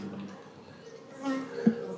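Honey bees hum around an open hive during an inspection, a faint, steady low drone that swells briefly near the end.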